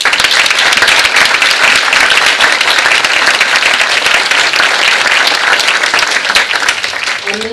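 A large audience applauds to welcome three panelists, a loud, continuous roar of many hands clapping throughout, tapering slightly near the end with a faint voice emerging.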